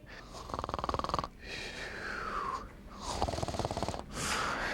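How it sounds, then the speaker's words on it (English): Heavy, rhythmic snoring breaths with rattling, vibrating inhales and wheezy exhales repeat in close, moderately loud cycles, with no talking. "They are breathing, aren't they?"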